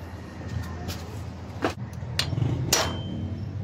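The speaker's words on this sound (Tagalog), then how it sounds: "Hirap tanggalin. Pukpok ng pukpok." Hammer blows on a Whirlpool automatic washing machine gearbox during repair, three or four sharp metallic strikes spaced irregularly over a steady low mechanical hum, close and fairly loud.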